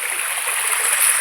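Flowing water of a cold, shallow mountain stream in rural Abra, a steady bright rushing hiss that fills the clip evenly, close and loud, with no voices.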